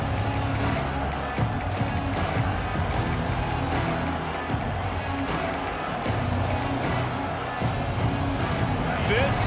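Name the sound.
stadium crowd in video game EA Sports College Football 26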